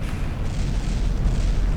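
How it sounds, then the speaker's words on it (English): Heavy rumbling blasts as a battleship takes a big hit in the naval combat game From The Depths, with secondary explosions rolling into one another as a loud, continuous low boom. "Oh, that was a big hit. It sounded like had some secondary explosions happen."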